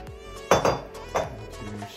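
Chunks of beef stew meat dropped into a pot, giving two or three soft, close thuds with a faint clink of metal in a quiet kitchen.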